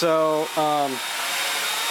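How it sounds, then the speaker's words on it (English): A high-current hair dryer runs close and loud with a steady whine that dips briefly before settling into a smooth whoosh, while a voice talks over it at the start. "This is probably the highest current I've ever seen out of a hairdryer ever."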